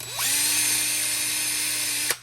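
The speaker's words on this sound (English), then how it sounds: "I'm gonna take my drill bit and just carefully open her up" A drill bit runs steadily for about two seconds, opening a hole through a Hot Wheels die-cast toy car for tubing clearance, with a steady whine that spins up at the start and cuts off at the end, close and alone.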